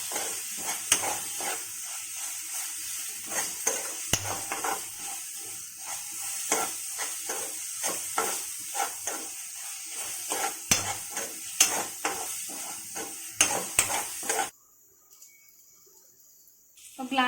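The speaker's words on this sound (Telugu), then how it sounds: "అల్లం వెల్లుల్లిపాయ పేస్ట్ వేసి పచ్చి వాసన పోయే వరకు వేయించుకోవాలి." Ginger garlic paste fries in a pan while a spoon stirs it, producing a soft sizzle broken by repeated scraping strokes. The sound cuts to near silence for the last few seconds.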